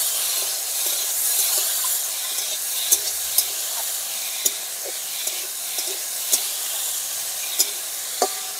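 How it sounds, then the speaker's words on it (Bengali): Potatoes with salt and turmeric stirred in a pan give a soft steady sizzle and hiss, with a spoon or spatula tapping sharply against the metal every second or so, fairly quiet and with no voices. "এবার খুব ভালো করে একটু নাড়াচাড়া দিয়ে নেব।"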